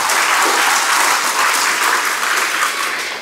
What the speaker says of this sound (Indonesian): Tepuk tangan buat Darul Bayan.